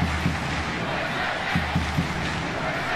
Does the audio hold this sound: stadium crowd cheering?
yes